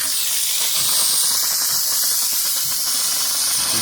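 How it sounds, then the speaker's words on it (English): Live steam hisses steadily and loudly from a steam generator filling the boiler of a G gauge 1:22.5 Shay two-truck model locomotive during its first hot steam test, a continuous close rushing sound. "The steam is coming and I fill now the steam into the boiler."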